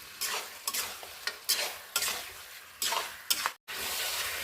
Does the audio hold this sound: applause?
no